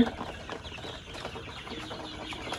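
Egyptian Fayoumi chickens on a poultry farm, recovering from illness, cluck softly in short overlapping calls against low barnyard noise.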